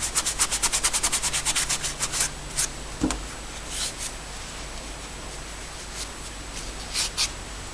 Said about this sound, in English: this Scotch-Brite just makes everything nice and smooth